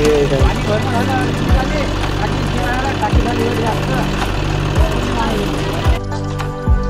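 A farm tractor engine runs close by with a steady, rumbling chug and regular low thumps, continuous throughout before a brief dip near the end.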